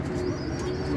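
Egyptian piebald pigeons with hazelnut-shell colouring coo in a continuous, close, throaty warble, with faint rustling and chirps mixed in.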